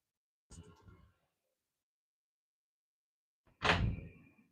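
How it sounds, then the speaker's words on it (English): A door is pushed shut indoors: a soft rattling bump comes first, then after a pause a sharper, louder thud as it closes, with quiet silence between. "I tried to close the door, so it didn't work."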